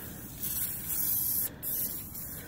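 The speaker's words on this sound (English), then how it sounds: "you just spray it on." A WD-40 aerosol can sprays onto a Chinese pit bike engine in two close hissing bursts, the second following a brief pause after the first cuts off.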